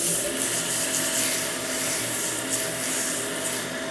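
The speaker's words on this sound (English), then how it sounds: "I'm going to do a little bit of sanding on this surface right here" Sandpaper rubbing a spinning wooden pendant on a lathe, a steady broadband hiss with a faint motor hum underneath, continuous and fairly close without pauses.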